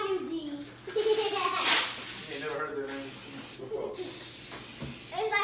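Cooking spray hisses in a quick burst onto a Chefman Volcano waffle maker, close and bright, while a child and an adult talk around it.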